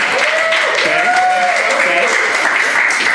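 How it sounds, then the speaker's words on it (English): An audience at a live bourbon podcast show applauds, dense, loud and steady clapping filling the whole moment, with a few voices and whoops mixed in. "round of applause if you've heard the show before"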